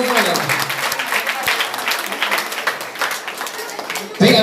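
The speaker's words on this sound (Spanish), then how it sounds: "Un fuerte aplauso, por favor" A crowd at a birthday party, gathered around candles and a cake, breaks into loud, dense applause that keeps up throughout, ending with a sudden louder thump.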